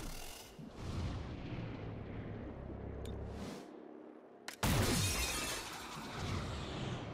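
Gunfire and shattering impacts in the turn-based tactics game XCOM: Chimera Squad, with loud rumbling blasts, a short gap, then a sharp crack followed by a heavy crashing burst that tails off.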